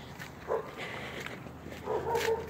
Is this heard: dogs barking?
yes